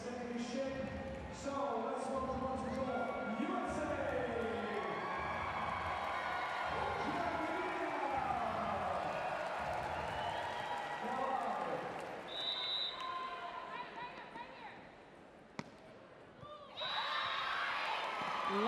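Spectators backing the USA in the stands at a London 2012 Paralympic women's sitting volleyball semifinal, Ukraine against USA, cheer and clap as a background roar while a commentator talks over them.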